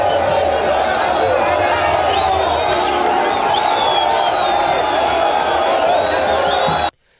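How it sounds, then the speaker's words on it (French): A dense crowd cheers, whoops and claps outside the airport in Lubumbashi as the president and his wife arrive, a steady loud roar holding for about seven seconds before it cuts off abruptly. "un bain de foule a été offert au couple présidentiel au sortir des installations aéroportuaires"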